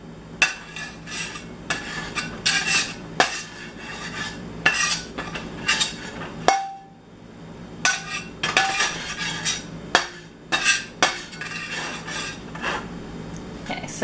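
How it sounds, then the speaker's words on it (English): Curry powder being stirred into hot oil in a pan while making curried tofu, heard as repeated scraping and clinking of a utensil against the pan in short bursts, close and moderately loud, with no talking. "So we've stirred in our curry into our oil"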